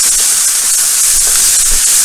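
Beef hits a hot pan of browning onions and sizzles with a loud, steady hiss that does not let up for the whole stretch. Nobody speaks over it.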